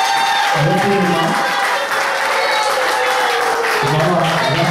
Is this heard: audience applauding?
yes